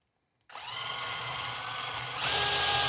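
A blunt step drill bores a small hole in the back panel of a custom turbo boost gauge build to pass a vacuum hose, starting abruptly as a steady loud whine that grows harsher and louder near the end.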